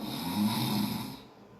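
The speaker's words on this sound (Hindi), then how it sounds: "जब खर्राटे लेते हैं" A person snores in one deep, rasping inhalation that fades out, heard alone and fairly quiet.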